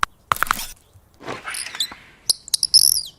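A little bird chirps in quick bursts of high, sharp tweets, some close and bright, scattered among short clicks and pauses over a quiet background.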